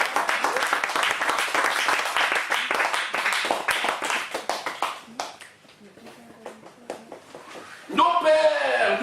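A church congregation claps hard and fast in dense rhythmic bursts that thin to scattered claps, then a raised voice cuts in near the end.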